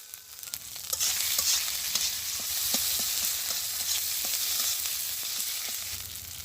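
Chili paste frying in hot mustard oil with ginger, coriander and cumin in a village kitchen, a steady close sizzle with soft scraping stirs and small pops throughout.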